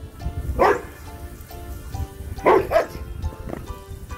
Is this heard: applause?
no